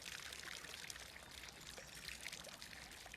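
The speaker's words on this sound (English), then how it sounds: "you have water coming from a fountain down this lovely long rill into a pond below" Water pours from a fountain down a long narrow rill into a pond below in a Spanish garden, a steady, soft, continuous splashing trickle heard alone at low level.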